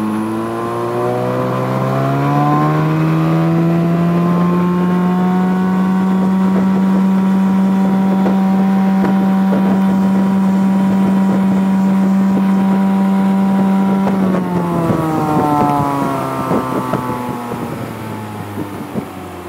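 A Yamarin 4500 Big Ride boat with an Evinrude E-tec 50 hp outboard revs up, holds a loud, steady whine at top revs of around 5800 rpm for about ten seconds, then winds back down, with wind buffeting throughout.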